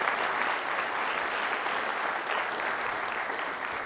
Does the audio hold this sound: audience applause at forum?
yes